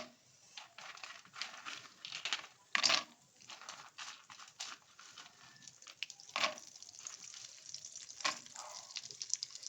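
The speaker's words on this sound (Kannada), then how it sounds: "ಬಾದಾಮಿ ಈ ಥರ ಫ್ರೈ ಮಾಡ್ತೀವಿ" Almonds fry in a pan for dry fruit laddu, crackling in faint bursts with rattling, clinking stirs and a few louder scrapes, close but quiet.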